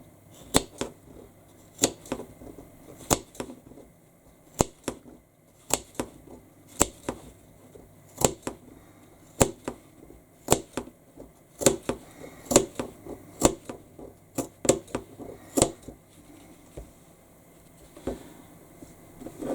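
Scissors snip repeatedly into a fabric seam allowance along a curve, sharp close clips coming one after another in an uneven rhythm over a quiet background.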